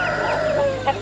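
A rooster at a busy Turkish poultry market gives a short, loud crowing call amid background market bustle.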